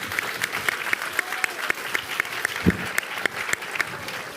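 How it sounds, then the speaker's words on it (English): An audience at a Mayor's Question Time at Marden High School applauds the co-hosts with steady, sustained clapping across the room, loud and continuous, with a faint voice briefly underneath. "And a massive round of applause for our co-host, Gracie and Blythe."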